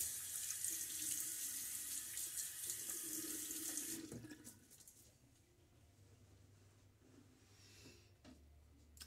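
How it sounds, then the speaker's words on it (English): Water runs from a tap into a sink and is splashed onto a face before a shave, a steady close hiss that stops abruptly, followed by soft dripping and quiet room sounds. "Water on my face."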